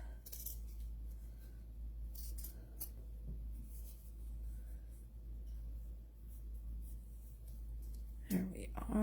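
Scissors snip through thin fabric to trim a seam allowance while hand sewing a tiny moth piece, giving quiet, scattered cuts over a low steady hum, with a louder rustle near the end.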